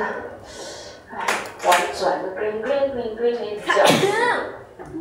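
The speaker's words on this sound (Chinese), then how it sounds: "你打喷嚏声音好豪迈" A loud, forceful human sneeze bursts out close by during a classroom-style biology lesson, with people talking before and after it.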